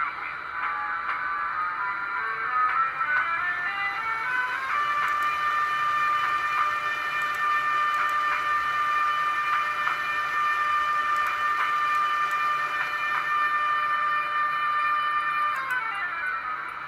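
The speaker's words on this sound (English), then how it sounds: "Emergency brake." A Roco 70485 model locomotive with an ESU decoder sounds its emergency brake: a long, loud, steady metallic squeal with layered tones, held for over ten seconds before cutting off.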